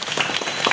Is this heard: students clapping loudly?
yes